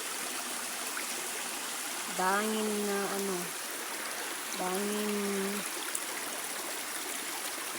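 A clear mountain river flows in a steady, close, broadband rush, and a voice speaks briefly over the water in the middle.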